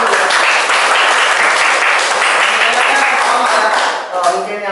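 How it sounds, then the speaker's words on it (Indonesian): A classroom group bursts into loud, sustained applause during a guidance and careers counselling session, thick clapping that carries on strongly before fading near the end as a voice starts speaking over the tail. "Oke, tepuk tangan."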